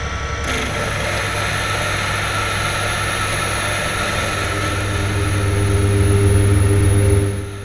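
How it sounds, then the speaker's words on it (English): A metal lathe runs flat out, turning a simple smooth part for a gear cutter arbor with a coated carbide insert, producing a continuous close machine drone and whine that swells slightly near the end. "I could run the lathe flat out on the second belt pulley"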